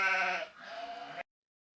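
A sheep bleats in one long, wavering cry, loud and close, that cuts off abruptly, leaving silence.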